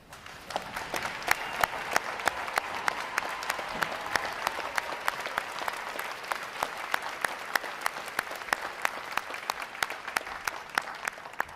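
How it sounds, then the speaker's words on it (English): Sustained applause from a large audience at a U.S. Navy Recruit Training Command boot camp graduation, honoring veterans: steady, even clapping with sharper individual claps standing out, continuing for over ten seconds. "Would you all please rise so we give you a round of applause?"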